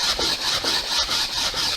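Sandpaper rubs back and forth over the cross-cut end grain of a wooden piece in a woodworking class, a close, rhythmic raspy hiss repeated about five times with no talk.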